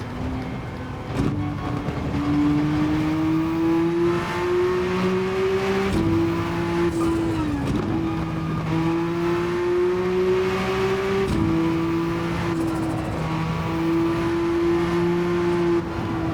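Porsche sports car lapping a race track, the engine holding a loud, steady tone that climbs through each gear and drops sharply at the shifts, several upshifts heard with no talking.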